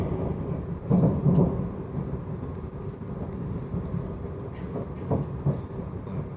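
An SNCF Z50000 electric train runs on Line J near Asnières-sur-Seine, giving a steady low rumble with a few brief clanks and rattles, heard from inside the train and without speech.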